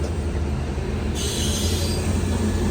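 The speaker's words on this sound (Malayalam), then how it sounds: "local train" A local train rolls by on Indian railway track with a loud, steady rumble, and partway through a sustained high wheel squeal rises over it and continues to the end; no voices.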